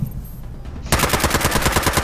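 Rapid automatic gunfire in the online game Fallout 76 during a one-on-one player fight, a dense run of close, loud shots that starts partway through after a quieter lead-in and keeps a steady rattling rhythm.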